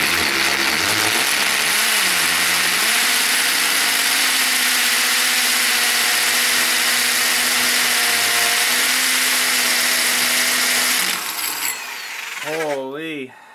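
A Milwaukee 2-inch hole saw bores through a foundry plate, giving a loud, steady grinding drone with a sustained tonal whine that shifts pitch and then winds down at the end.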